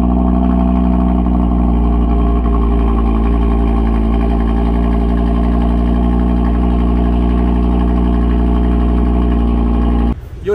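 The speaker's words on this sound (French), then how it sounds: "je vais vous faire écouter le cold startup de la RS3 de Luxembourg Racing Car" An Audi RS3 engine cold-starting early in the morning at a car gathering, a loud, steady, deep idle drone held for about ten seconds before ending abruptly.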